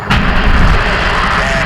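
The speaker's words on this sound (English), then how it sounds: "And liftoff." Rocket liftoff of NASA's DSCOVR satellite launch, a loud, continuous broadband roar that rumbles in abruptly and holds steady without speech.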